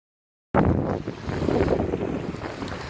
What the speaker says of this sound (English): We have some water splashing here,